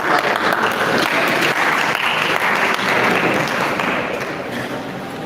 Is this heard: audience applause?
yes